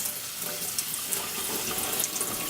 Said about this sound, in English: And then you rinse it really well.